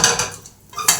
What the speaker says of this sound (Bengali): আমি এটা থালার মধ্যে ঢেলে নিচ্ছি।